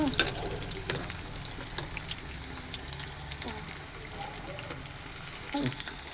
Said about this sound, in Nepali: प्याजलाई एकछिन रातो हुन्जेलसम्म भुट्नुपर्छ